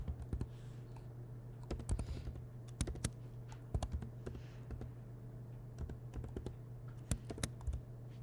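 Quick irregular clicks of typing on a computer keyboard, close and fairly quiet, over a faint steady hum.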